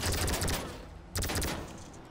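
Gunfire in Grand Theft Auto V, two loud bursts of rapid shots, the first rattling for about half a second, a short gap, then a second burst that trails off.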